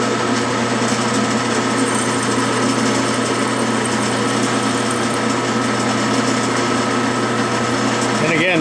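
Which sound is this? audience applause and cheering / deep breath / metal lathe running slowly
metal lathe running slowly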